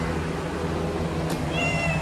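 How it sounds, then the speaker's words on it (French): A small cat meows softly in a short rising call near the end, over steady indoor room hum in a rented flat in Minneapolis. "il y a un petit chat"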